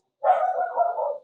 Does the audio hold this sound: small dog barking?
yes